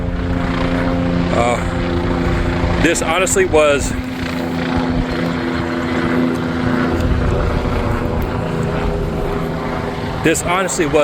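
Continuous thumping helicopter rotor drone fills the background at a Trump rally, steady and loud, while a person talks briefly over it.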